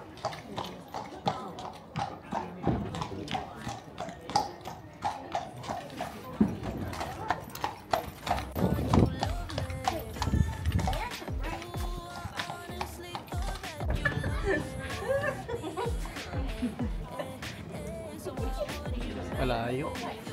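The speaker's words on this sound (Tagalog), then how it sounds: "Ang hihila ngayon ng kabayo." A horse clip-clops steadily while towing a canal boat along the Llangollen Canal, its hooves tapping in an irregular but continuous rhythm at moderate distance, with people talking over it throughout.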